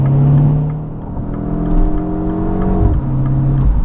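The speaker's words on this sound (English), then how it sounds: "there is actually quite a bit of intake and turbo sound in this engine" The 2025 MINI Cooper JCW convertible's engine surges and drops as the transmission downshifts, rising intake and turbo whir heard from inside the car, loud and close, with a pitch step near the end.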